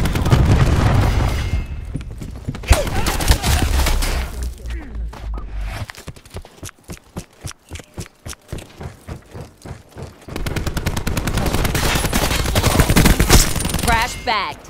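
Cluster grenade blasts in Call of Duty: Black Ops 4 burst as a rapid string of sharp, closely spaced pops in the middle, bracketed by heavier gunfire and rumbling booms before and after.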